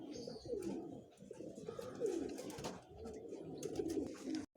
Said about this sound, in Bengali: আরেকটি ফুলশিরা মাদি পায়রা শখ করাচ্ছি আপনাদের